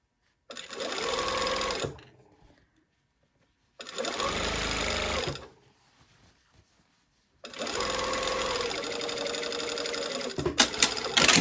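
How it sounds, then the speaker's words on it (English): A sewing machine stitches the center back seam of a skirt in three close bursts of fast, even mechanical whirring, broken by short quiet pauses, with faint handling clicks at the end. "now we have our center back seam sewn"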